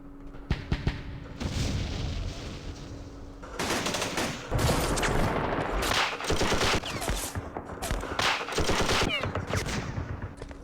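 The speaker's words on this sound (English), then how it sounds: "Let's use these mortars." Mortars fire in the Campaign Series Vietnam game during a Dien Bien Phu battle, with dense bursts of rapid shots and booming impacts that come in loud clusters separated by short lulls.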